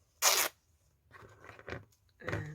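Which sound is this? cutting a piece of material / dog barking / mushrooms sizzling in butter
cutting a piece of material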